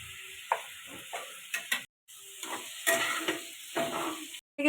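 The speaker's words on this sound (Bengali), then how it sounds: "দিয়ে এগুলোকে ভালো করে ভেজে নেব" Boiled potato, squash, green chilli and tomato frying with salt in a pan, lively sizzling under repeated spatula stirs and scrapes, with two brief dropouts to silence.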